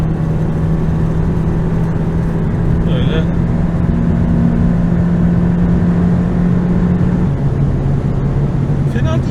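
A Fiat 500X with a 1.4 litre engine accelerating, heard from inside the cabin as a steady, loud engine drone that swells slightly, then drops in pitch near the end as if shifting gear, with road noise underneath.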